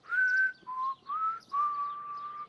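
A person whistles a short tune of a few sustained tones, clear and close, with brief gaps between phrases and nothing else around it.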